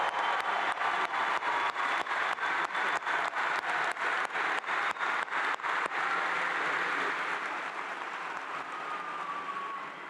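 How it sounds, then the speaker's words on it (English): Applause at a Clemson summer graduation ceremony, a dense crowd clapping steadily with a few sharper claps standing out, then gradually thinning and fading toward the end. "How about another loud round of applause for our newest Master's in Education degree specialist?"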